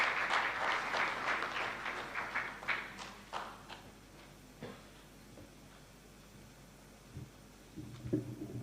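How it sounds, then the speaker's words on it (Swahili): An audience at a World Press Freedom Day event in Tanzania claps loudly, the applause thinning out over a few seconds into scattered, isolated claps, followed by quiet room sounds. "Makofi kwake tafadhali."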